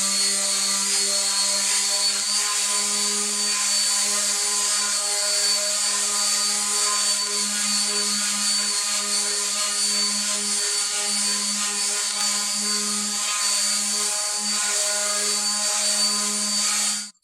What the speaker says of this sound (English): We're going to go ahead and sand this down again to 220